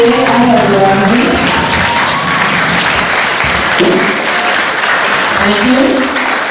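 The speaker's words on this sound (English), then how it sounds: "I want you to applaud all of the members of the P.T.A. and Reverend Ramsay" An audience applauds PTA officers and a reverend at a school installation ceremony in Barbados, loud steady clapping from a large crowd filling the room for several seconds, with a voice or music tones faintly underneath.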